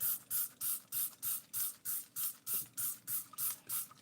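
Lysol disinfectant sprays in about eleven short, evenly spaced hissing bursts onto plastic Barbie dolls, each spritz close and sharp, with no talking.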